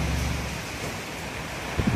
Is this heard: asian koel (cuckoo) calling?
no